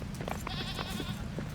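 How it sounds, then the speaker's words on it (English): Goats bleat in Return to Moria, a short wavering cry rising over a dense, steady game background, close and moderately loud. "Always a lot of goats in this area."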